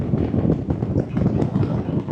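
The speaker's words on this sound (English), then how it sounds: "Windy day here in Sopot." Wind buffeting a microphone on a windy day on the Baltic coast in Sopot, a steady close rumble with fluttering gusts throughout.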